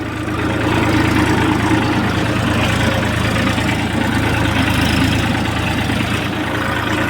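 A heavy tractor engine idles loudly and steadily nearby, a constant low rumble with a faint knocking throb and no voices.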